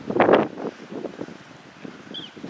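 Blustery wind ahead of a snowstorm buffets the microphone in uneven gusts, strongest at the start and then easing into a lower, steady rumble.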